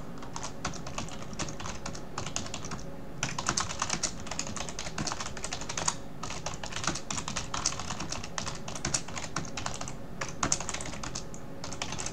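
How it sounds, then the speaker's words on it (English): Rapid, loud clacking of a computer keyboard being typed on nearby, continuous keystrokes with a couple of brief pauses. "my keyboard is very loud"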